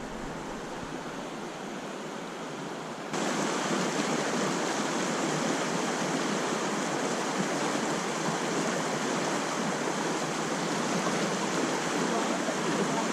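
Pecos River current rushing through a deep hole, a steady broadband roar of flowing water that swells louder after a few seconds and then holds constant, with no voices.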